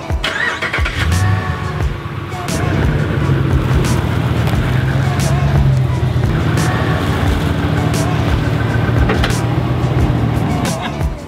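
An old truck bought at auction runs after long storage, its engine rumbling loudly and close as it pulls away and drives, with clunks and rattles over the steady drone.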